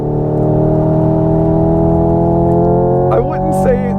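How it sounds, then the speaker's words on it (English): A Hyundai Ioniq 5 N plays a loud, steady synthetic engine drone through its speakers, with a few brief crackling pops from the artificial exhaust near the end. "There's a little crackle from the exhaust."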